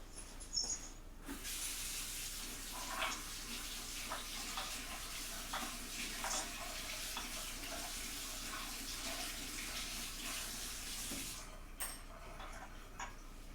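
Tap water runs steadily into a sink while a brush is washed, a continuous close hiss and splash with small clinks, starting and stopping abruptly.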